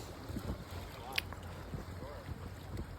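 Boat travelling on the Mekong River in Cambodia: a low steady motor drone with water and wind noise buffeting the microphone, faint and continuous, with brief murmuring voices.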